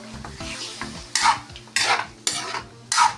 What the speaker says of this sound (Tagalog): Toast ko muna yung ating chicken.